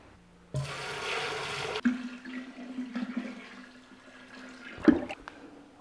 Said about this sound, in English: So I'm going to put some water in here and I'll be back.